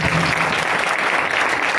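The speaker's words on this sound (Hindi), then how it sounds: "मैं खुदा के जलाल के लिए जोर से तालियां बजाऊं" A congregation at a Christmas sermon claps loudly and continuously, dense sustained applause filling the room with no voices over it.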